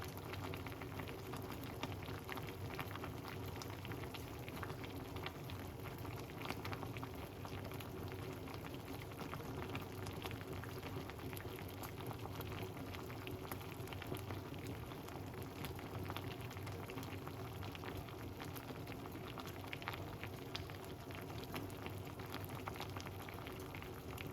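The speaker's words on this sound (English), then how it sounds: "the water start to boil, as you guys can see" A pot of water boils steadily, a dense, continuous bubbling and rumbling that stays even throughout, with no voices.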